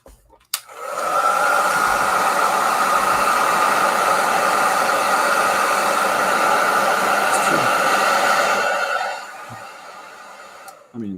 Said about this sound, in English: whenever I use the hairdryer